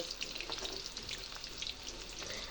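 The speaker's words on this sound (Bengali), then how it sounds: "তো আমি এরকম করে এক এক করে সবগুলো ফুলকপির পাকোড়া ভেজে নেব।" Cauliflower pakoras frying in hot oil make a faint, continuous bubbling crackle with fine pops throughout, no voices present.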